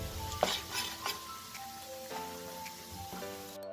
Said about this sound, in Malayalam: ഇനി ഇത് ഈ പൊടിയും നെയ്യും തമ്മിൽ നല്ലോണം ഒന്ന് മിക്സ് ചെയ്ത് കൊടുക്കുക